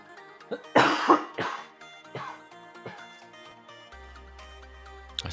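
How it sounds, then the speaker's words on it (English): A man with a lingering cough, several harsh coughs close to the microphone, loudest in a quick burst near the start, then spaced throat-clearing coughs trailing off, with no talk. "I still have a cough."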